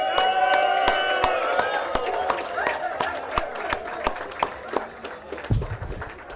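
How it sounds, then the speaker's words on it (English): A crowd claps and cheers, with sharp individual claps scattered over a sustained roar and whoops, tapering off toward the end. "So I think you need to give yourselves a big round of applause."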